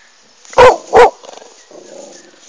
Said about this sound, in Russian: Вот обгавкала человека